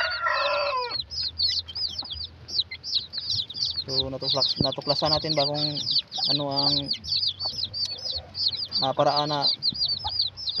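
Chickens and chicks cluck and cheep constantly nearby, with high peeping throughout, while someone talks over them.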